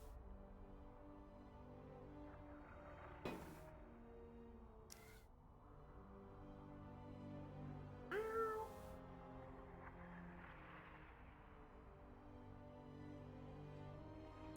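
A cat meows several times indoors, a few short separate cries spread across a quiet room with low background hum.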